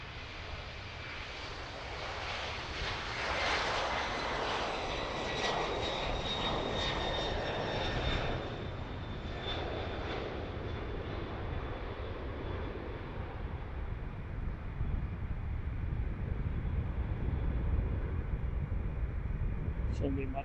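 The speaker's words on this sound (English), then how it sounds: "heavy Boeing 767. Next heavy departure. 767 off to Allentown." A heavy Boeing 767 cargo jet departs Cincinnati's cargo airport, its engines a loud, steady broadband roar that slowly fades and shifts in pitch, with a voice talking over it.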